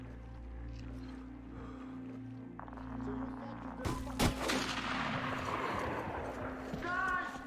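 Sniper rifle fire in the video game Metro Exodus, a sharp crack near the middle followed by a loud, noisy burst, set against droning ambient game sound with a voice talking.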